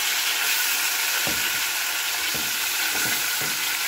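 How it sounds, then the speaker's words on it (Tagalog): Pork chop steak frying in hot splattering oil, a steady loud sizzle with a few soft pops and clinks rising through it. "Kasi natalsik ang mantika."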